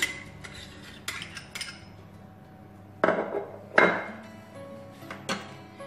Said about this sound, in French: Donc je viens la verser dans un petit poêlon.